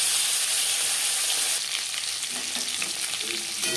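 Rohu fish pieces rubbed with salt and turmeric fry in hot refined oil: a loud, close sizzle settles into a softer, crackling fry, with no talking.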